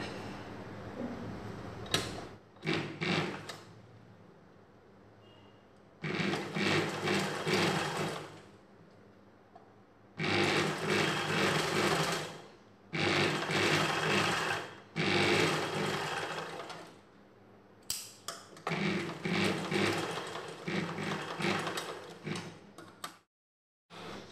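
A sewing machine stitches a blouse piece along its edge in several loud bursts of rapid running, separated by pauses with faint handling noises and no talking.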